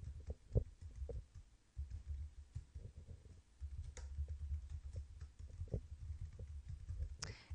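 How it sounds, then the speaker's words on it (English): Keys on a computer keyboard tap out email addresses in quick, uneven bursts of close, soft clicks with short pauses between runs, no voices. "you're going to type in their email addresses."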